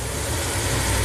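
A Ram camper van engine idles steadily after a stalling fault was repaired, a smooth, low, even rumble that holds constant from near by.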